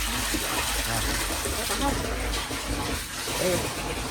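Water pours from a pipe into a storage tank with a continuous rushing gush, while people talk over it.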